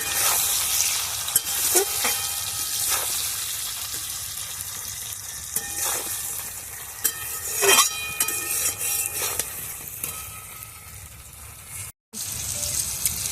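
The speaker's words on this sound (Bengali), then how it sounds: "এবার একটু নেড়ে চেড়ে ভেজে নেব মশলাটা।" Turmeric and Kashmiri chilli powder being stir-fried in a pan for a Bengali broad bean (shim) dish: a steady close sizzle with repeated scraping stirs of a spatula throughout, no talking.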